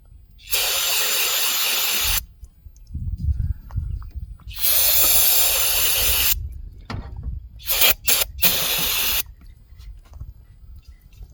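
Old, stale gasoline is sprayed out of a 1980s Nissan generator that sat unused for ten years, coming in three loud hissing bursts of a few seconds each, with a couple of short spurts and quieter handling noises between them.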